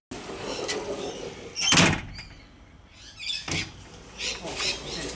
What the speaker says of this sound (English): That's a tight door.